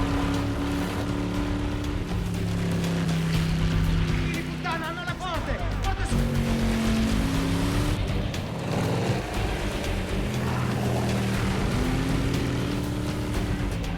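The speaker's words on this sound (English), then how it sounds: "I don't think anyone's seen a boat chase like this, especially in Venice." Roaring speedboat engines rise and fall as boats race past in a chase through Venice canals, with water splashing and churning throughout, loud and close.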